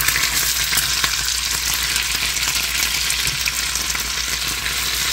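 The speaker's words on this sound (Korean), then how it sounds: "같이 계란하고 같이 볶는다." Ingredients for Korean restaurant-style fried rice are stir-fried with egg in a hot, oily pan, giving a loud, steady, close sizzle with crackling and stirring throughout.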